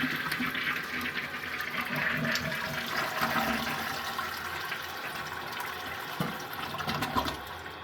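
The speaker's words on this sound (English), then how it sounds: "I'm going to do a flush." A 1931 Standard toilet with a Douglas flush valve is flushed, releasing a rushing gush of water that swirls and drains continuously for several seconds, close and moderately loud.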